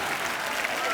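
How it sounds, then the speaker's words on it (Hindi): Applause for Sunny on a TV comedy talk show, a dense, steady wash of many hands from the studio audience filling the whole short moment without a break. "सनी के लिए जोरदार तालियां।"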